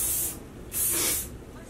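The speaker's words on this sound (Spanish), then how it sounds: "Working spray first." Two bursts of hair working spray hiss from an aerosol can during a beachy-waves styling session, the first short and the second longer, fairly close and separated by a brief pause.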